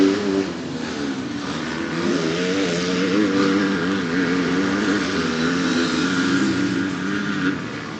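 Race cars on the last lap sweep around the outside of a bend, engines roaring loudly and continuously as the pack closes in and passes nearby.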